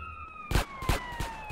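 A fire truck siren in GTA San Andreas wails as a steady, slowly falling tone, broken by three heavy thuds in quick succession.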